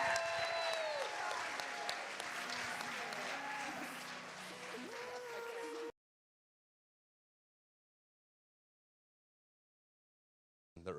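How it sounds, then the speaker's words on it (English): Audience at an AI forum applauding loudly for about six seconds, a thick clatter of clapping with a few whistles, then cutting to silence before a brief burst returns at the very end. "Another round of massive applause"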